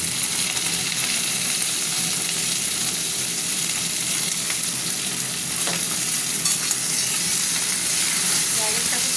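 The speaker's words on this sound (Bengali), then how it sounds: "পেঁয়াজের সাথে শিমগুলোকে ভাজা ভাজা করবো একটু।" Flat beans frying with a small amount of onion in hot oil, a loud, continuous sizzle broken by occasional stirring scrapes, close and alone without speech.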